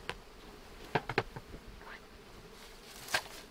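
Honeybees buzz faintly and intermittently at a hive as they move from a small nuc box up into the main hive body, with a few soft taps and rustles.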